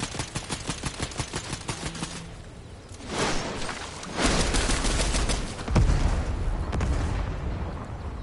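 Fortnite gunfire: a rapid stream of automatic shots up close, then heavier bursts and booming impacts over a loud roar.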